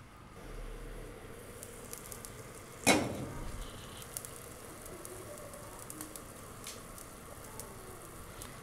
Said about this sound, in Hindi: यखनी डालने के बाद इसको मिक्स कर लें और इसको बॉईल होने दें।